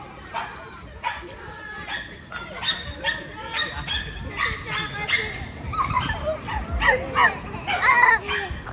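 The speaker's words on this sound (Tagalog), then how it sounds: "Ito pa ganito yung mga aso." Dogs bark and yip in quick, repeated bursts, fairly close, while people talk over them.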